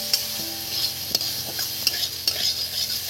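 Chicken frying in a wok for piyaji, with a steady sizzle broken by several sharp spatula scrapes and knocks against the metal, close and fairly loud.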